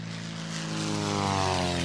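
German propeller warplanes over the Basque town of Guernica in 1937 make a loud, continuous engine drone with a steady harmonic hum that swells slightly, with no voices.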